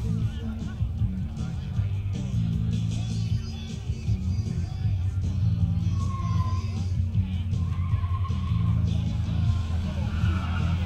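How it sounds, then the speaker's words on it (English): Drag racing cars roar loudly with deep, rumbling engines as they launch down the lanes, under a commentator's voice calling out the drivers. "James Schuster in the left lane. And in the right lane, Peter Brass for Pontiac Schuster."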